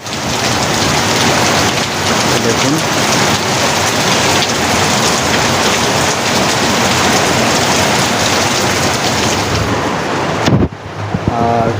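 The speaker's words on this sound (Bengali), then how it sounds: "দেখুন, আপনাদের দেখাই, অনেক বৃষ্টি এখানে" Heavy rain pours steadily as a dense, loud wash of noise with occasional wind buffeting, continuing almost unbroken before cutting off sharply near the end; a voice speaks briefly.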